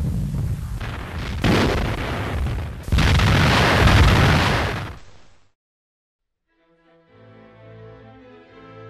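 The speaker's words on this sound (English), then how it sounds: "This is captured footage of American artillery gun crews in action during the battle." American artillery guns firing during the WWII battle of Cassino: a run of loud, close, heavy booming blasts rolls on for about five seconds, then drops to silence before a faint tonal passage begins.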